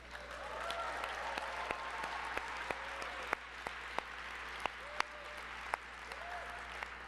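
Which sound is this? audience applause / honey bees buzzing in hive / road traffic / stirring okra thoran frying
audience applause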